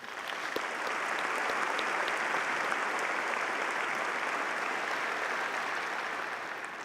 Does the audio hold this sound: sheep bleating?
no